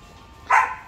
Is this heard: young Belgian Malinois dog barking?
yes